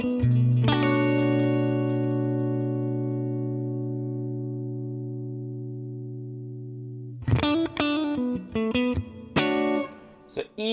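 Clean electric guitar through a Fender Princeton amp model on a Fractal Axe-Fx: one sustained chord rings out and slowly decays, then a quick run of plucked notes and short chords follows, loud and close.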